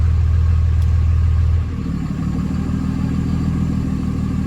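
A Dodge Ram with a Cummins 5.9 diesel idles steadily at a low 800 RPM, its loud, close, deep rumble dropping to a lower, fuller drone partway through as the exhaust brake closes.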